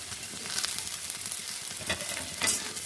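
Cauliflower, carrot and beans frying in hot oil in a pan, a steady dense sizzle with brief spattering crackles and light stirring scrapes, close and continuous.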